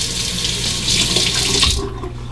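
Tap water runs steadily into a sink while a shavette razor is rinsed, a close, full hiss that stops abruptly near the end.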